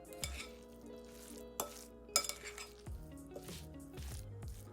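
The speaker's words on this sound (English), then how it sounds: "We're going to mix it all together now until it's completely combined." Lasagna filling with a teaspoon of lemon juice gets stirred in a bowl until combined, a quiet steady scraping and mixing with a few faint utensil knocks against the dish and no talking.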